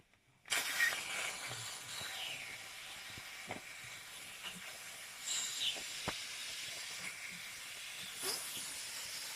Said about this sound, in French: Et pour bien montrer qu'il y a de la vapeur à l'intérieur, qu'elle est bien produite, je vais prendre le risque de le desserrer un peu le bouchon.